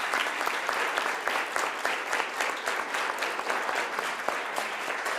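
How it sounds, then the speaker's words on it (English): Assembly delegates break into sustained, dense clapping after a resolution passes at a heads-of-state assembly session, a steady even roar of many hands lasting throughout without speech. "clapping is in order"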